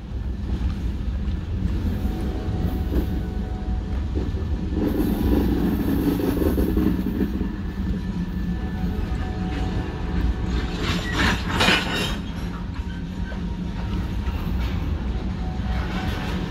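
CSX freight train with scrap metal cars rolling past in downtown Augusta, Georgia, a long steady rumble with clanks and squeals of wheels and couplers, some wind buffeting the microphone.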